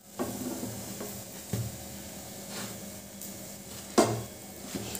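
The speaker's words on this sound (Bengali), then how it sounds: "একটা দিক ভাজা হয়েছে, এবার আমি বেগুনগুলো উল্টে দেবো" Eggplant slices fry in a pan with very little oil, a faint steady sizzle broken by a few soft clinks and scrapes as the pieces are turned over.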